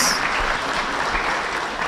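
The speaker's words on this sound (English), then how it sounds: "can we give him a round of applause" An audience applauds steadily for a governor after a candid talk at an induction session for Kenyan National Assembly members; the dense clapping runs continuously for about two seconds with no speech over it.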